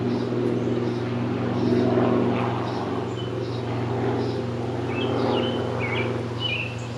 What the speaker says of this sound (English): wait for that plane to go by